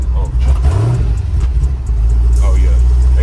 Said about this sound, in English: You can hear it. They upgraded the exhaust, I'm sure.